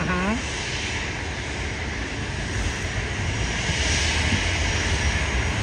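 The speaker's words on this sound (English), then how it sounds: "That's one of the fastest taxing A380s I've seen in a very long time." Qantas Airbus A380 airliner taxiing fast at Sydney Airport, a loud steady engine roar holding throughout as the jet rolls past, with a brief faint whistle at the start.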